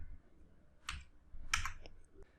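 Keys tapped on a computer keyboard while entering an Excel average formula, a few soft separate clicks spaced apart, close and quiet with no talking.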